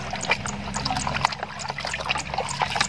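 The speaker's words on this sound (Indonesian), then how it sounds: "Terus tuangkan ke dalam tangki." Mixed rice fertilizer solution pours steadily into a sprayer tank, a continuous close liquid splash and trickle with gurgling over a low background hum.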